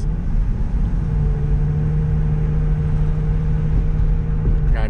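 An Infiniti G35 coupe fitted with a JDM engine pulls ahead under throttle, its loud, steady engine drone heard continuously from inside the cabin.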